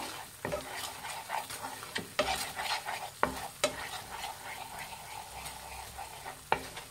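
Chilli flakes and salt are stirred in a pan with a steady sizzle beneath, a spatula scraping and tapping the metal in irregular close clicks and knocks.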